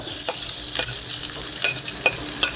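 Onions sizzling in hot oil in a pan, with steady frying crackle and several scraping stirs of a spoon at irregular intervals, close and fairly loud, no talking.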